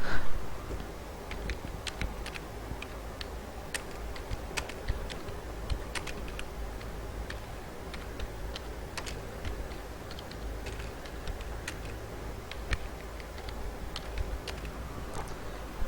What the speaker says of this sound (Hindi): यहाँ पे मैंने टेक्स्ट को टाइप कर दिया